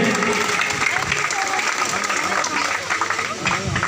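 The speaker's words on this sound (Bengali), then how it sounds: "আবার জোরে হাততালি দিয়ে অভিনন্দন জানাই" An audience at a technical school event claps together in congratulation, a dense, sustained patter of many hands that stays loud throughout, with a voice carrying over the crowd.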